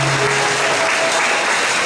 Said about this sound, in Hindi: जोरदार ताली बजाओ इस मसीह को।